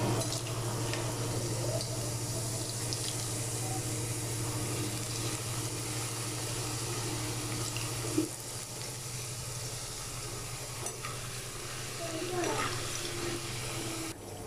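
Homemade potato chip slices frying in a hot pan of oil, a steady close sizzle and crackle lasting throughout with a few sharper pops.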